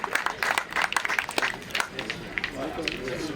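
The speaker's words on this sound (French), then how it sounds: "je pense qu'on peut applaudir encore une fois toutes ces personnes qui ont permis de réaliser cette soirée" Audience applause at a community evening event closing an Eid ul-Fitr tournament weekend: dense clapping from a crowd, fairly close, with voices mixed in and talk rising toward the end.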